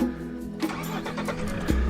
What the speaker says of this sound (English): I'm gonna start my vehicle